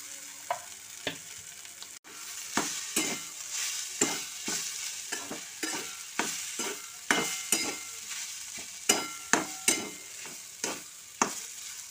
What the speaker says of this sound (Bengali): এবার আলু আর মশলা খুব ভালোভাবে কষে নেব একসাথে